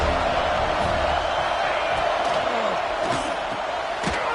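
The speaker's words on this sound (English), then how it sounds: "Man, this crowd really affecting the football game." Steady stadium crowd roar in a college football video game, a dense continuous wash of noise with a few swells of cheering and whoops over the top.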